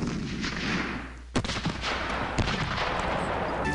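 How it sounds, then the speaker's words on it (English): Cannon fire in the Civil War strategy game Civil War Generals 2: a sharp loud boom followed by a rumbling burst of several further blasts and crackling shots, with no talking. "Take as much firepower out of these cannons as I can."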